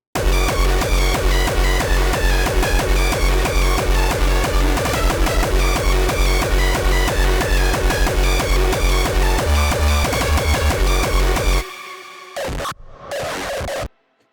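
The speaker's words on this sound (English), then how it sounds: "you need some sort of a kind of distorted 909 kick" Loud, distorted 909-style kick drum samples for hardcore, pounding in a dense rapid pattern for about eleven seconds, then cutting to sparse, quieter bursts near the end.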